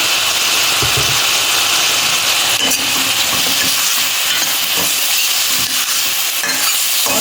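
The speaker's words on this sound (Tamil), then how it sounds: "வெங்காயம் தக்காளி வதங்குறதுக்கு கொஞ்சம் உப்பு போட்டுக்கோங்க" Chopped onion and tomato sautéing with salt in a pan for Bombay chutney, giving a steady broadband sizzle with scattered scraping stir strokes throughout, close and fairly loud, with no talking.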